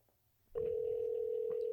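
Outgoing phone call ringback tone: after a brief quiet moment and a click, a steady electronic tone starts and holds clearly through the rest of the stretch.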